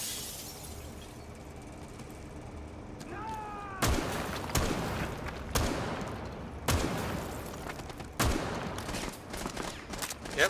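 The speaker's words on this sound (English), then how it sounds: "Yep, they're shooting at me" Gunfire in Rainbow Six Siege on the Consulate map in a bomb match: sharp shots crack out in separate bursts, loud and fairly close, with short gaps between them over a quieter game ambience.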